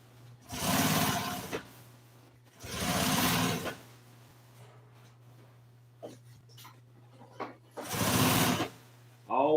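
A sewing machine stitches a 1955 Chevy front seat cover in three loud bursts of rapid whirring, separated by pauses filled with a low steady hum and small handling clicks.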